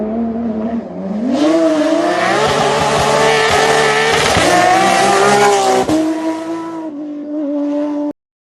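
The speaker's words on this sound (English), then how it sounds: "Car." A car roars past loudly and close, its engine revving up and rising in pitch before dropping away, with a short quieter tail of engine noise at the end.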